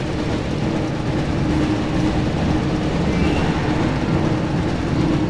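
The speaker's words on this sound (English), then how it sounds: "Looks like we found the train, Ron." The Hogwarts Express from the PS1 game Harry Potter and the Chamber of Secrets rumbles steadily and loudly throughout, a dense, continuous roar of rolling train noise with no gaps.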